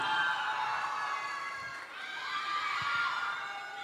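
Crowd at a pageant awards night applauding and cheering for a contestant, a fairly faint, distant and continuous mix of shouts and cheers from many supporters that dips briefly midway.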